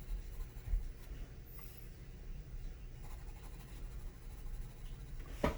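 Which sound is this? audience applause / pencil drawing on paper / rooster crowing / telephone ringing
pencil drawing on paper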